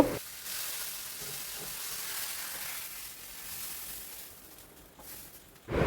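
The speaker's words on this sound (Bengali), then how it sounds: "মাছটা ভাজা হয়ে গেল, এবার নামিয়ে নেব।" Fish fries in a pan with a steady, close hiss of hot oil that runs for about six seconds, swelling briefly near the end, with no voices.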